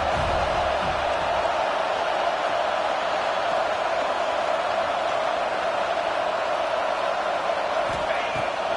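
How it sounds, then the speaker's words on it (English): Stadium crowd noise from the College Football 25 video game, a dense, steady roar of Alabama Crimson Tide fans on third down at Saban Field, sustained and loud with no distinct voices. "The Tide crowd rolling noise down onto Saban Field on third down."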